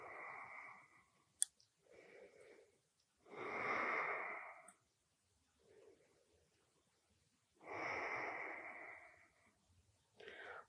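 Slow, deep breathing during a yoga stretch, with long airy inhales and exhales in a calm rhythm, quiet and close, separated by short pauses and a faint click.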